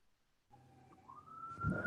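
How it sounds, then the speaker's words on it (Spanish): An ambulance siren sounds faintly outside at a distance, a single rising wail that swells slowly from near silence. "Hay un ruido de una ambulancia por ahí"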